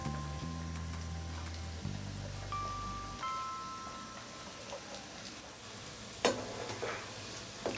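Rolled rava snack dough balls hiss and bubble as they drop into hot oil one by one, a soft continuous sizzle with faint clinks and a steady tonal hum in the background.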